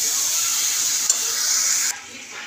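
Vegetables and whole chillies fry in a pan with a loud, steady hissing sizzle. One brief clink sounds midway, then the sizzle drops to a quieter level near the end.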